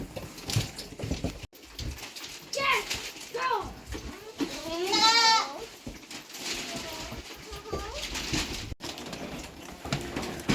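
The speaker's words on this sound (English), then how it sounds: "I have 16 baby goats" Baby goats on a small farm bleat in several wavering high cries, a few near and loud in the middle, while someone talks over them throughout.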